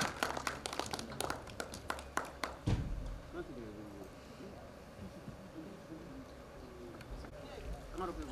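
Applause from an audience at the Deendayal auditorium in Jhansi after a play: dense, sharp claps for the first few seconds, then fading into crowd murmur and talk.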